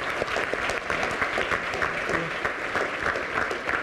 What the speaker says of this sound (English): If we could give them a round of applause as well.